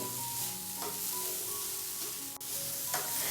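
Grated coconut and sugar, moistened with a few teaspoons of water, roast in a pan over a medium flame, giving a steady close sizzle broken by soft scraping stirs.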